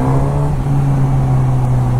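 A superbike's inline-four engine on its stock exhaust holds a steady, loud, close drone with a strong low hum and a slight rise near the start, with no one talking.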